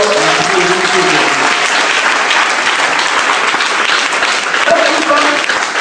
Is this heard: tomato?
no